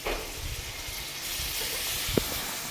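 A homemade sauce goes into a hot pan on a vegetarian home stove and sets off a steady, soft hiss of sizzling that lasts throughout, with a faint clink near the end and no talk.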